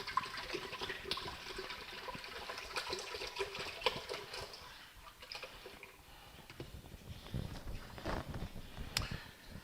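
1.5 liters of milk pours steadily into an Instant Pot, a continuous splashing stream that shifts in tone as it fills, with faint clicks in the background.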